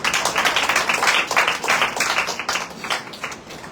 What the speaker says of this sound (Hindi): जोरदार तालियां मारो